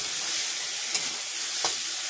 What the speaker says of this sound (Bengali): এই আদা রসুন কাঁচা লঙ্কা একসাথে ভেজে নেব